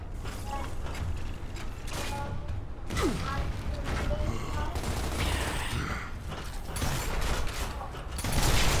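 Gunfire and mechanical clatter in the video game Gears of War, dense and continuous bursts with creaking metallic sounds layered over a constant loud game soundtrack.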